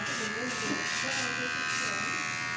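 A Wahl Magic Clip hair clipper buzzes steadily and close up, a constant motor drone with a bright, high whine that barely changes over its length, as though the blades are running dry.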